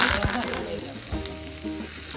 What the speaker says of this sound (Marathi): मस्त फोडणी बसलेली आहे आपली